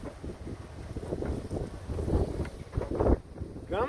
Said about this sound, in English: Can't hear me over the wind blowing the wrong way.